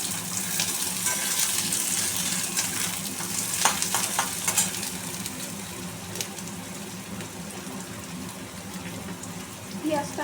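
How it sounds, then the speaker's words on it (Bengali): Chopped onions frying in a pan with black cumin, a dense close sizzle with crackles and a few sharper spits, gently stirred, with a faint clink and shuffle of utensils now and then. "পেঁয়াজটা আমি হালকা ভেজে নেব"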